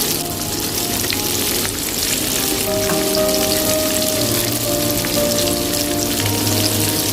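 Chicken French fries in hot oil give a loud, dense, continuous sizzle and crackle, steady throughout with no voices.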